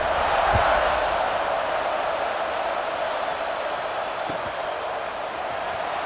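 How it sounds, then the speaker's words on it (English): A stadium crowd in the video game EA Sports College Football 26 keeps up a steady, loud roar and buzz after a score, a dense wash of voices with a couple of faint thumps underneath. "this crowd is buzzing after that last score"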